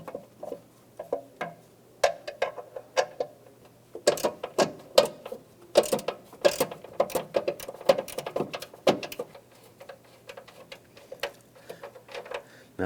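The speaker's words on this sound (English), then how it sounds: "use our socket and our 10mm socket and our ratchet to remove the bolt on here" A ratchet fitted with a 10mm socket loosens a bolt on a 2015-2020 Cadillac Escalade, reached down between the tank and radiator; a quick run of dry clicks and ticks, close and moderately loud, comes in irregular bursts with no talking.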